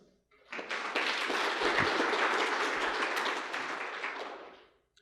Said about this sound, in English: So a round of applause for yourselves.